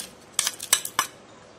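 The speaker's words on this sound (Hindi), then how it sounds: "अभी इसमें हम आइस डालेंगे, तो आइस के छोटे छोटे टुकड़े करके आप इसमें ऐड कीजिए" Small pieces of ice dropped into a mixer jar for a chikoo milkshake give three or four sharp, close clinks spaced a fraction of a second apart, with no talking.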